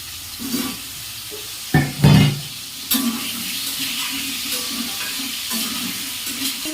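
Diced potatoes fry in oil in a home kitchen, giving a steady close sizzle with a few louder bursts of stirring and scraping early on, then an even crackle.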